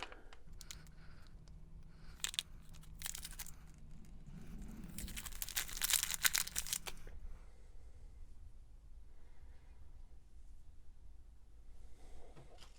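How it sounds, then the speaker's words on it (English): Tape peeled away from a handmade resin prop knife with a dried gloss coat, giving a bright crackling, ripping sound for a few seconds midway. Scattered quiet clicks and handling noises come before and after it. "the gloss layer has dried, so let's take this tape off"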